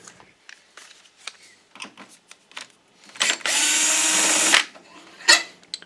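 A power screwdriver backs screws out of the bottom of a Digital Projection E-Vision WUXGA 6800 DLP projector, with one loud whirring burst of about a second amid quieter clicks and handling noise.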